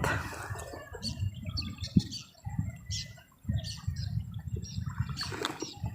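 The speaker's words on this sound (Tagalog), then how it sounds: "Ay, naku, mga ibon kayo." Small birds chirp and tweet in short bursts over a steady low rumble, in a wooded area by Laguna Lake; the calls come at irregular intervals and sit at moderate distance.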